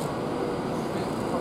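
Avanti West Coast Class 390 Pendolino electric train, unit 390130, pulling out of Carlisle station bound for London Euston, heard as a steady, broad rumbling roar with a faint whine, constant and fairly distant, no voices.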